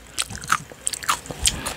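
Someone bites into a crunchy fresh cucumber close to the microphone, giving several crisp, snappy crunches in quick succession.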